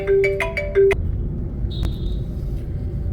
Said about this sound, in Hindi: भाई का फ़ोन आ गया है